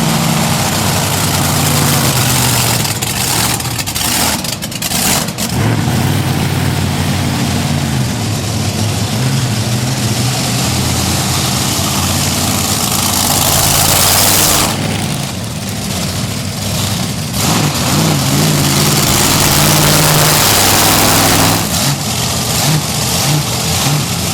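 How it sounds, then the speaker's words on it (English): Monster trucks rumbling slowly down to a parking area at a beach event in Wildwood, New Jersey, heavy engines idling and revving loudly and continuously, with surges and brief dips as they pass. "guide the trucks down to the parking area for the street party"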